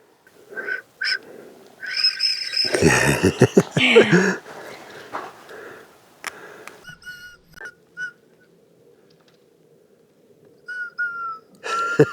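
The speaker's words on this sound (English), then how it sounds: "Let me see if I can whistle." Several short whistled notes ring out, with rustling and handling noise in between, then a final pair of clear whistles near the end.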